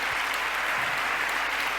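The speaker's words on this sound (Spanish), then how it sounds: "Un aplauso para ellos." Continuous loud applause from a conference audience at a motivational event for freelancers and small firms, a close, even wash of clapping with no pauses.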